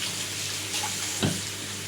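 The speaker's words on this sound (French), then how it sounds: "Je rince les mains." Hands rinsed under a running kitchen tap, a steady close wash of water with a brief louder splash partway through, no one speaking.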